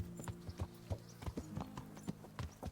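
Horse hooves clip-clop at a steady walking rhythm in the medieval game Kingdom Come: Deliverance, clear and close over a low droning background hum, with no voices.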